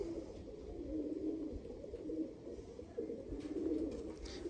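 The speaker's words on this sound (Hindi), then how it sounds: "ये ब्रीडर कबूतर है हमारा।" A breeder pigeon coos in a low, steady, murmuring drone that runs for several seconds, close by and soft, with no one talking.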